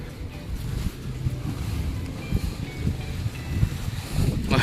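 A cool breeze blows outdoors at a building site for a 20-car parking lot, rushing and gusting over the microphone with a low rumble, fairly loud and continuous.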